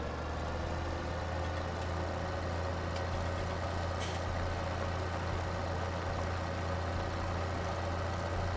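John Deere tractor engine in Farming Simulator 17, hauling a loaded 10,000-liter trailer uphill: a steady, low, droning hum with constant loudness and no talk.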